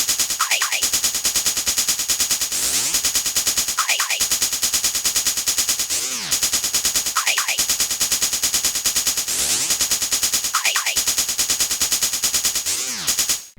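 A hip-hop drum beat built from a drum concrete preset loop, with rapid, dense hi-hats rolling constantly, a few hats softer, and punchy hits recurring every few seconds; loud and close, no talking.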